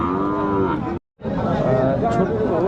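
Cattle at the Chaubaria livestock market moo loudly and close by, two long drawn-out calls separated by a brief silence, with faint crowd chatter in the background.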